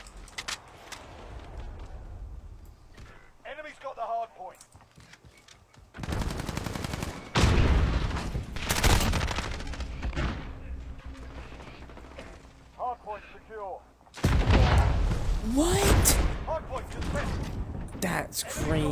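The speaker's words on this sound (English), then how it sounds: "This whole game is just explosions at this point." Bursts of rapid gunfire and booming blasts from Call of Duty: Modern Warfare (2019), coming in loud clusters separated by quieter stretches with brief voice snippets.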